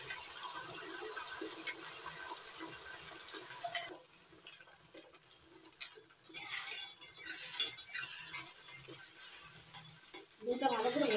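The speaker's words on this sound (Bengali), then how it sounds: "ডিমটা ভালো করে ভেজে নেব নাড়াচাড়া করে।" Beaten egg fries in hot white oil in a wok while being stirred, giving a steady bright sizzle with scraping and clinks of the spatula against the pan, louder toward the end.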